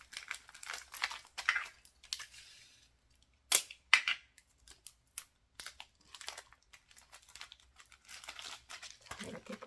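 Plastic vinyl wrapping crinkles and crackles while being pressed down and taped shut on a homemade weighted vest, in scattered bursts with a couple of sharp snapping tape pulls, fairly quiet and close.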